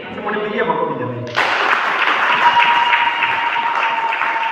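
A church congregation breaks into loud, sustained clapping after a brief spoken line, the dense applause continuing steadily to the end.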